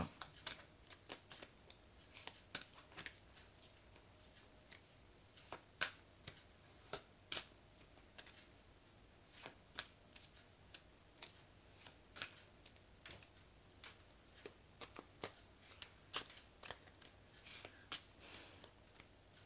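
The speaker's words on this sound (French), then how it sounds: "je vais couper le jeu et je vais étaler les cartes" Oracle cards from a mirror-themed deck are shuffled, cut and spread on a surface, giving quiet, crisp snapping flicks and soft shuffling rustles in an irregular run of clicks close to the listener, with no talking.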